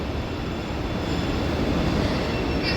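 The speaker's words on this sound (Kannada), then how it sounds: "ಸೊ ಇವಾಗ ನಾವು ಮೆಟ್ರೋದಲ್ಲಿ ಚಿಕ್ಕಪೇಟೆಗೆ ಹೋಗ್ತಾ ಇದ್ದೀವಿ" A metro train heading to Chickpete rumbles along with a dense, steady roar of wheels and rails heard from inside the carriage, loud and continuous with no talking.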